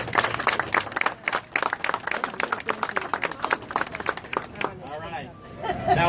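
A crowd claps in steady, lively applause at a small business event, the clapping filling the room for several seconds before thinning out as a voice begins to speak.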